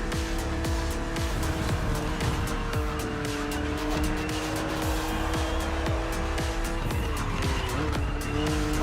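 A BMW Z roadster, a two-seater, racing in a video game, its engine droning loudly and steadily with repeated gear shifts and tire squeal throughout.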